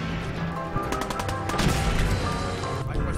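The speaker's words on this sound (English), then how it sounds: "Ready. Aim. Fire!" Gunfire in the Fallout video game, a burst of rapid repeated shots clustered in the middle, loud and near, over a busy game soundscape with no clear speech.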